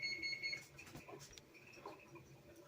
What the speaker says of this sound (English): I see the oven's telling me that it wants to cook cookies.